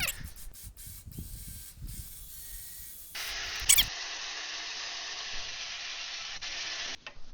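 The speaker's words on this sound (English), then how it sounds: "We're just going to winch a little bit." Winch slowly pulling a steel cable through a snatch block: a steady whining motor drone with grinding texture, preceded by scattered clanks and handling noise, running continuously for several seconds.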